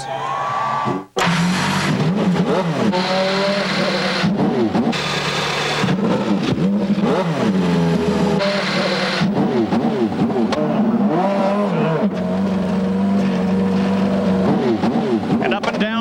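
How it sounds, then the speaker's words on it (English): Twenty-eight CART IndyCar race car engines fire up and rev hard on the starting grid at the 1995 Toyota Grand Prix of Long Beach, a dense, loud, continuous roar with rising and falling revs throughout. "Gentlemen, start your engines."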